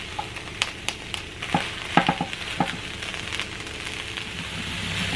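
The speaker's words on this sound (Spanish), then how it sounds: "Aquí ya se están empezando a dorar, igual a la primera vuelta. Los chiles también." Red chiles roast and brown in a hot pan, giving a steady close sizzle broken by scattered sharp pops and crackles, with no voices.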